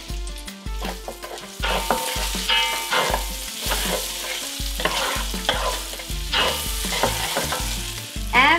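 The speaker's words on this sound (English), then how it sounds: "Add the cranberries. Saute them a little." Cranberries and orange zest sauté in a hot pan with a steady close sizzle and frying crackle, while a spoon repeatedly scrapes and stirs across the pan bottom.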